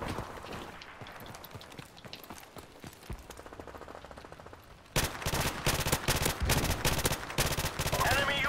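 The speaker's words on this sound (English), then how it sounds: "His gun shoots so fast." Rapid automatic gunfire in Call of Duty Remastered, a sparser stream at first, then a loud, dense burst of rattling shots close up.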